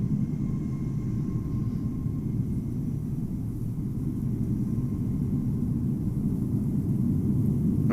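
Heavy airliner arrivals at Amsterdam Schiphol in a flight simulator under cloudy weather, a steady broadband jet rumble holding evenly throughout without talk.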